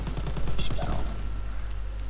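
A rapid burst of gunfire from a weapon in a World War II video game, with quick repeated shots packed close together, then a low steady hum as the firing stops.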